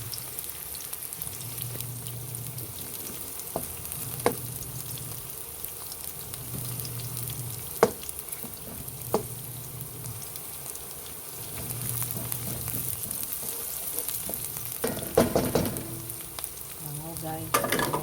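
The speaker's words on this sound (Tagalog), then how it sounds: "Lagyan na natin yung ating bawang." Garlic sizzling in a hot pan for squid adobo, a continuous crackling fry hiss with occasional stirring clicks and scrapes, close and steady, faint talk now and then.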